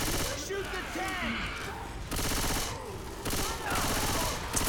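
Video game gunfire aimed at a tank, a dense rapid fusillade of shots repeating in loud bursts that nearly fill the clip, with a voice talking beneath.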